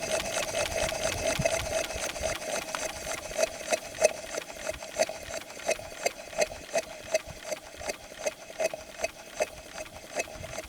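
Twin compound steam engine running outdoors wide open on wet steam at 15 psi, its rapid, even mechanical chuffing and clacking steady and close throughout with no talking.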